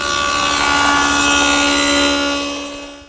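A power tool routes a rabbet along the back edge of a wooden chest panel, a loud steady high whine with a tonal hum that holds evenly, then fades slightly at the end.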